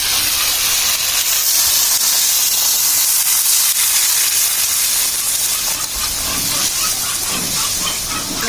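Water hits frying spices in a pan for a thin hilsa fish curry with taro greens and peanuts. It sets off a loud, close, continuous hiss of sizzling steam that barely eases across the whole stretch.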